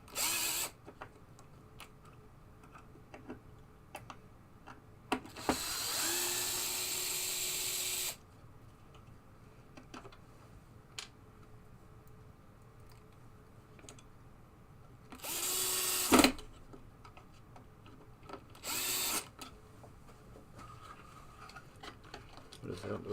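Power drill backing screws out of a Williams Travel Time pinball playfield during a teardown, with three whirring bursts of a few seconds each and small ticks and clatter between them, close, with occasional voices.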